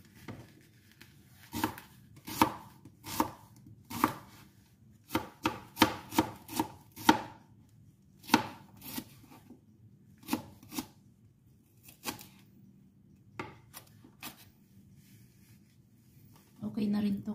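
Sharp knife strokes chop an onion on a cutting board, a run of distinct close, crisp chops in quick clusters with short pauses, then a few more scattered cuts, over faint background room noise.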